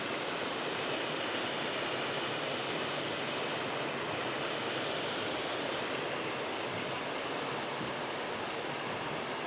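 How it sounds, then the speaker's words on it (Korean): A mountain valley stream rushes steadily along a forest trail in Hanggol Valley, Jeongseon County, Korea, giving a loud, unbroken broadband wash of flowing water with no pauses throughout. "와, 보이시나요? 계곡 소리."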